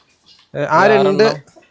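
A native domestic hen gives a single drawn-out, throaty cluck close by, loud and alone against a quiet yard.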